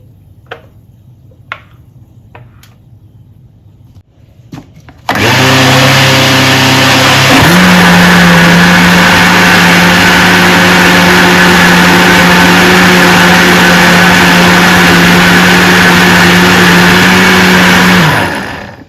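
A blender mixing semolina batter kicks in abruptly and runs loud and steady, its whine shifting pitch once, then whirring on before cutting off near the end.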